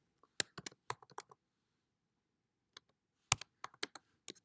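Bursts of quick, light keystrokes on a computer keyboard while entering data into a spreadsheet, close and quiet, with a pause between two clusters of typing.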